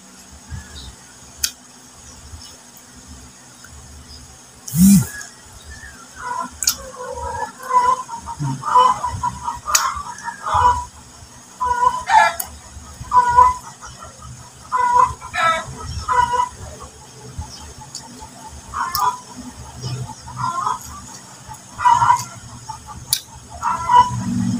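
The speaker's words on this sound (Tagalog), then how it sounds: "Yung dalawang inahin ko nagsabay sa isang initlugan nila ay nag-aaway." Two hens cluck and squabble over a shared nest, repeated short clucks and agitated calls close by in an irregular rhythm, with one sharp louder squawk early on.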